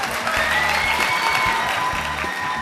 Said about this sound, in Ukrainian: Зустрічайте оплесками.